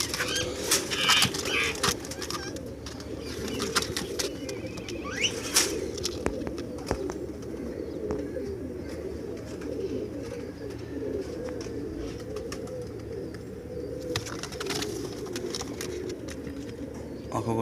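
Many pigeons coo in a low, overlapping murmur at a crowded pigeon market in Multan, with scattered wing flaps and clatter over a constant busy background.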